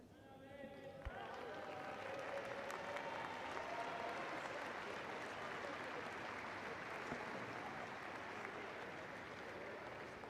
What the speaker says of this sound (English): she gets a warm round of applause